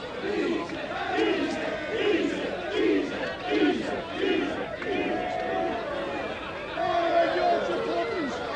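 A rugby league crowd of Wigan fans at the Charity Shield match against Hull KR roars with sustained cheering and chanting, a loud, continuous wall of massed voices with rhythmic swells throughout.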